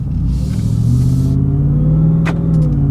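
A supercharged Ford F150 truck engine rumbles loud and close, swelling into a rev midway with a faint whine riding above the deep drone, and no voices.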